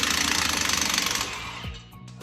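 An impact wrench rattles loudly and rapidly as a wheel spacer is removed from a car's hub, then winds down and stops after about a second and a half, leaving faint clicks.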